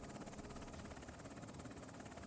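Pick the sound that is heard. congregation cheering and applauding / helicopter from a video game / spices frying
helicopter from a video game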